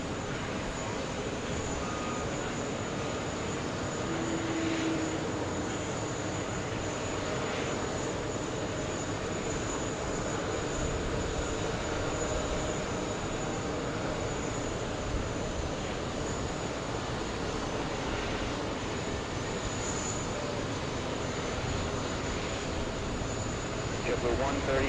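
A Delta Boeing 767-300 arriving from Paris at JFK gives a moderate, continuous engine drone under a persistent hiss, fairly distant and even throughout, with a voice talking over it.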